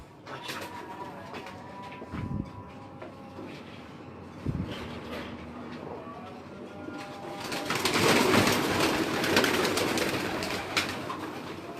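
Domestic pigeons kept by a Punjabi pigeon fancier coo in low, soft, repeated calls close by, with louder rustling and flock noise swelling toward the end.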